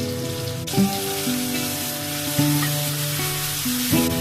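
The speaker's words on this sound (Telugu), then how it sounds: "ఈ ఆనియన్ మంచిగా ఫ్రై అయ్యే వరకు ఫ్రై చేసుకోవాలి" Onion paste and cumin fry in ghee with a loud, continuous close sizzle. Sharp spattering pops and bursts recur throughout, and no voices are heard.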